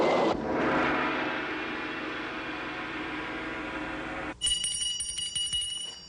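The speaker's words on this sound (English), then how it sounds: "The boo-boo bell says hello" Bell rings out sharply with a bright metallic chime after several seconds of steady hissing noise, the ringing repeating and decaying near the end, loud and alone without speech.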